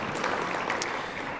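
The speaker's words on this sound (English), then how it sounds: "You can clap for that." Banquet audience clapping briefly, a short, steady patter of applause that holds at even loudness for a moment.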